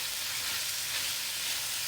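Carrots and string beans stir-frying in a pan for a chicken breast stir fry, giving a steady, even sizzle with no talking.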